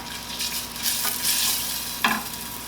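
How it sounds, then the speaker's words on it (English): Close, steady sizzling of onions frying in olive oil with pepper and red pepper flakes, with a brief scrape of stirring partway through. "If you hear that sizzle, I'm going to turn it down to low."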